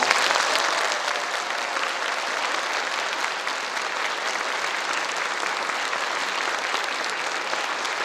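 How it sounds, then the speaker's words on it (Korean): A large audience applauds the performers at the end of a stage show, steady, dense clapping filling the room without a break from start to finish. "오늘 모든 출연자들께 다시 한번 격려의 박수 부탁드립니다"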